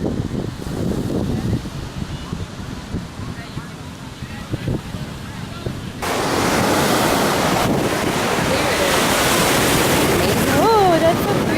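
Ocean waves and surf wash steadily onto a cold beach, with a constant loud roar that swells in the second half, heavy wind buffeting the microphone and a voice briefly heard over it.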